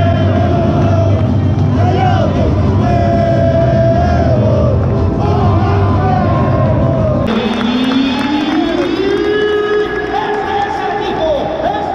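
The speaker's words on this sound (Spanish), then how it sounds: "Hay unas personas que están abucheando y otras aplaudiendo." A loud stadium crowd at a Rayados de Monterrey football match, with a mix of booing, yelling and scattered applause, a constant dense roar of many voices with chants and shouts rising over it.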